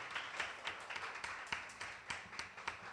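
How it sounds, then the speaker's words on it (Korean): A small church group giving warm welcoming applause, a sparse, fairly quiet patter of individual claps in an uneven rhythm, with no talking over it. "따뜻한 환영의 박수."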